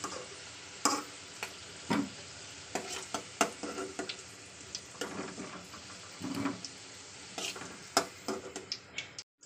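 Fried potatoes are lifted out of hot oil with a spoon into a bowl: a steady oily sizzle runs throughout, punctuated by a dozen sharp spoon clinks and scrapes at irregular intervals, close and fairly loud, with no voices.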